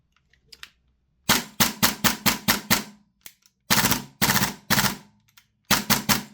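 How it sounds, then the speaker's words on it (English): A Toxicant MCX Rattler gas blowback airsoft rifle fires in loud, crisp bursts of rapid shots, each shot giving a sharp snap of the blowback, with short silent gaps between the strings. "what you will notice from this little demonstration is the blowback"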